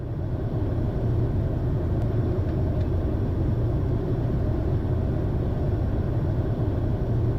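Steady, loud airplane cabin rumble as an aircraft lands at St. Martin Airport, heard from inside the cockpit, a broad continuous engine and airflow roar with no voices.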